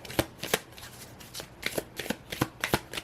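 Tarot cards are shuffled in a series of crisp riffling bursts, about ten of them at an uneven rhythm, close and fairly loud with no talking.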